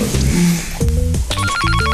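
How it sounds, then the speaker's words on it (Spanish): An electronic phone ringtone plays a repeating melodic pattern of bright tones, loud and close, with faint background noise at the start. "teléfono, teléfono, teléfono, teléfono"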